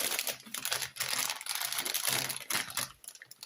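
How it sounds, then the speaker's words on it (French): Crinkly plastic packaging from a haul being opened by hand, with continuous close crackling and rustling throughout, quieter toward the end. "On va l'ouvrir parce que le bruit va être désagréable."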